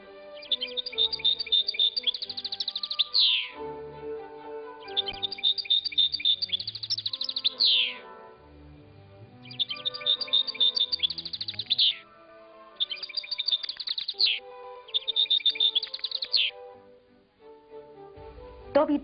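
A European goldfinch sings nearby in five bursts of bright, rapid twittering, each a few seconds long, separated by short pauses with soft background sounds.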